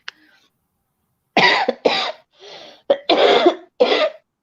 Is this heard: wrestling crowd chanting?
no